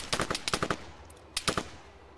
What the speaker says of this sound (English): he was shooting at somebody else